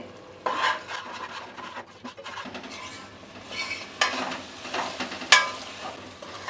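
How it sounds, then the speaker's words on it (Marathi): Masala paste sautés in oil in uneven bursts of sizzle and scraping as a spoon stirs it around the pan, close by and without talk. "आता हे वाटण आहे ना ते आपल्याला तेल सुटेपर्यंत परतून घ्यायचं आहे"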